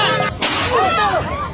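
Single sharp crack of a pistol shot in a hostage-rescue reenactment, loud and close, with a short ringing tail.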